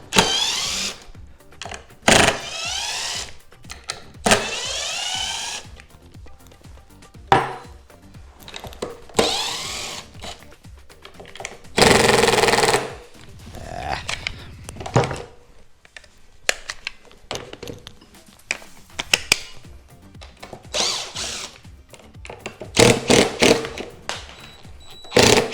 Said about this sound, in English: So we gotta pre-drill these so we don't split them again.